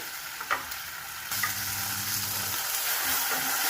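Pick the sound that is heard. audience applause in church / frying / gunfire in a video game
frying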